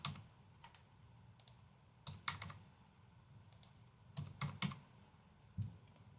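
Typing grades into a computer keyboard in an online gradebook: scattered soft key clicks in a few short bursts over a quiet background, with no talk.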